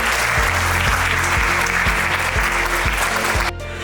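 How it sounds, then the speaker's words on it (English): An audience at the QUIZEELING 2023 inter-school quiz competition applauds loudly and steadily for several seconds, dense clapping over a recurring low thudding beat, until it cuts off abruptly near the end. "Can we have a big round of applause for them?"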